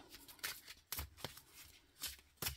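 Oracle cards from the deck Le murmure des animaux by Emy Lee, Leduc edition, are shuffled by hand in several quick riffling bursts, crisp and close, separated by short pauses.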